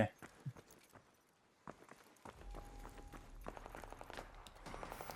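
Rapid bursts of gunfire in the video game Arc Raiders crackle in quick clusters under a low rumble, with a steady tone briefly humming in the middle.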